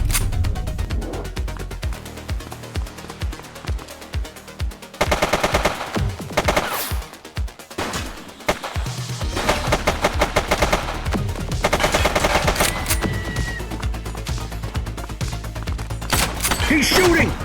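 A suspect opens fire in the police video game The Precinct: loud, rapid bursts of automatic gunfire rattle repeatedly with short gaps between volleys, up close and dominating the scene.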